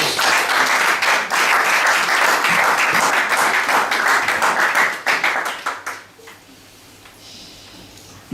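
A church congregation at a Sunday service bursts into loud, sustained applause with scattered cheers, then the clapping thins out and fades to quiet room tone near the end.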